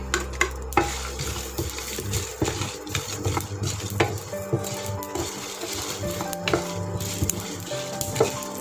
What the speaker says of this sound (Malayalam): ഒരു 2-3 മിനിറ്റ് നന്നായിട്ടൊന്ന് ഫ്രൈ ആക്കിയാൽ മതി.